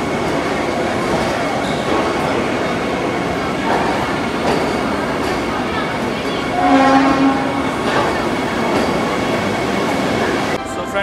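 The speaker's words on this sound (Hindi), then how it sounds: "हमारी ट्रेन भी आ चुकी है, Vande Bharat made in India train." Vande Bharat train, a Made in India express, at New Delhi's Anand Vihar railway station, giving a steady loud rumble of rail noise with a brief tonal horn-like hum in the middle and faint voices in the background.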